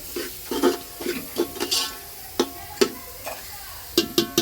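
Mutton stirred in a pot over a wood-fired clay stove, with a series of short scraping, sloshing strokes against a quiet sizzle, close and moderately loud, with no talking.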